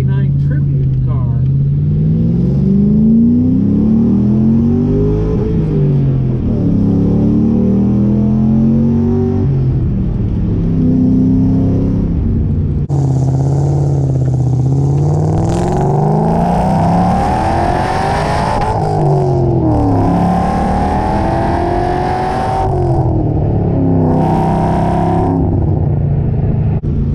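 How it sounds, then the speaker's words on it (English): A Kenny Brown built 2005 Mustang GT CSR 69, a one-off 1969 tribute car, drives with a steady rumbling V8 drone that swells into louder revving accelerations, heard from inside with someone talking over it. "this is a CSR 69, built by Kenny Brown, and it's a pretty special car"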